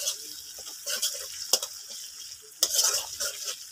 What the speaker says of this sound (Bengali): এতে একটু হালকা করে ভেজে নিচ্ছি।